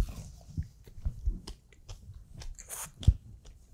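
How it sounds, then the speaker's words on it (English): Close, quiet bites and wet chewing of raw octopus topped with wasabi, with soft crunchy clicks and smacking in an uneven rhythm, one sharper bite standing out near the end. "First bite of the taco wasabi"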